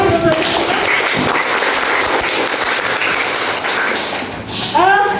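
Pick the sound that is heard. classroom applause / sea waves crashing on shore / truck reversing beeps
classroom applause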